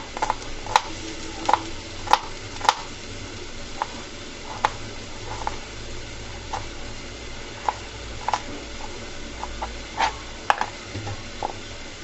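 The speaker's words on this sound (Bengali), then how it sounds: "পেঁয়াজটাকে কুচি কুচি করে কেটে নিচ্ছি" Kitchen knife finely chopping raw onion for a mashed leafy-greens bhorta, sharp irregular taps on a board spaced across the clip, close and fairly faint over a low steady background hum.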